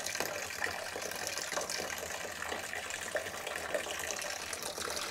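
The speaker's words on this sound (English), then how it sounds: "So I'll just crack the tap just to let the sanitizer out, just like that." Sanitizer liquid flowing steadily out of a cracked keg tap during a closed pressure transfer from a Fermzilla, a continuous broad watery gush running evenly throughout with no talking.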